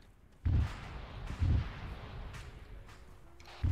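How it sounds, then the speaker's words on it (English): Gunfire and explosions in the video game Arma 3, with two heavy booming blasts followed by rumbling and distant shots, and another blast starting at the end. "Something big's exploding."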